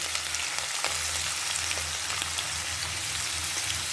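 Ginger, garlic and carrot sizzle and crackle in hot oil, a dense steady frying hiss with scattered pops, close and continuous.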